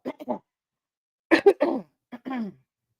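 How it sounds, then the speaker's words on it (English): Someone clears their throat in several short rough bursts, close and dry, separated by silence, ending with a longer gravelly rasp. "I had to clear my throat."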